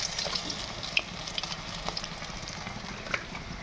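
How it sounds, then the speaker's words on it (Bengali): Pieces of katla fish fry in hot oil in a kadai, a steady low sizzle and crackle with a few sharp spatters and pops, close and moderately quiet, no talking. "মাছের 1 পিঠ ভাজা হয়ে গেছে, উল্টে দিলাম, আরও 1 পিঠও ভাজা হয়ে যাবে।"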